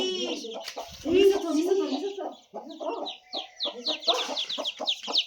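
Hens cluck close by in a series of short, uneven calls, a few louder squawks among them, with some voices nearby.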